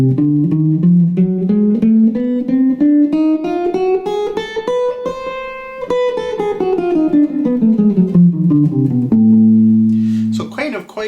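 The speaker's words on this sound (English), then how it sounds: "here is the whole half diminished scale starting on A." A scale played on a melodic instrument, rising step by step in a steady run of single notes and then falling back down, ending on a sustained low pair of tones; close and clear with no talking over it.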